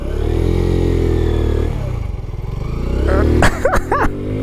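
A Kawasaki Z125 Pro motorcycle engine idles with a steady low thrum, then revs up in several sharp, rising bursts near the end as the small bike turns around close by.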